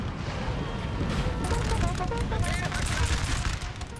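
Artillery fire rolls across a Napoleon Total War battle between French and Austrian armies, a dense, continuous rumble of booms and crackling musketry at mid distance, with faint voices underneath.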